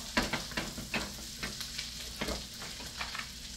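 Leftover carbonara pasta in sauce warms in a pan with a soft, low sizzle, punctuated by light rhythmic clicks and scrapes from stirring, close and fairly quiet with no speech.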